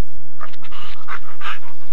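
A dog pants in quick, rhythmic breathy bursts, close and fairly loud, with no other sound around it.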